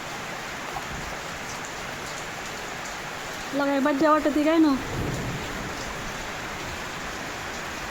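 Steady rain falls with an even, moderate hiss throughout, while a single voice speaks briefly in the middle.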